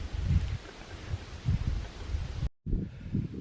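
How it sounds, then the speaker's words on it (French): Gusty evening wind rushes through forest trees and rustles in bursts, buffeting the microphone with low rumbling thumps; a brief dropout interrupts before the blowing resumes. "le vent souffle pas mal ce soir"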